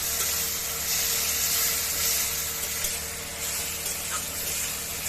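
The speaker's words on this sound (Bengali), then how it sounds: "এর মধ্যে আমি দিয়ে দেবো ভেজে রাখা আলুগুলো। আলুগুলো দিয়ে আরেকটু কষাতে হবে।" Fried potatoes are sautéed in a cooked spice masala, giving a dense, steady frying hiss that fills the whole stretch, close and fairly loud, with no voices.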